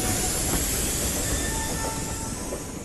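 A train rumbles steadily past a platform, a loud continuous roar of rail noise with faint wheel squeal running through it and no voices.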